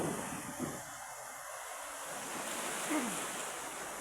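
Tidal water flows in along a litter-strewn shore, a soft continuous wash of surf with some wind rumble, faint and steady throughout, no speech.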